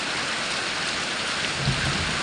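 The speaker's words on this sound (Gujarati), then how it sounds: "વરસાદ ભારે ચાલુ થઈ ગયો છે અને ગાજવીજ ચાલુ છે જોરદાર વરસાદ ચાલુ થયો છે" Heavy rain pours down on a farm at night during a thunderstorm. A dense, steady roar of rain stays close and loud throughout, with a low rumble swelling briefly near the end.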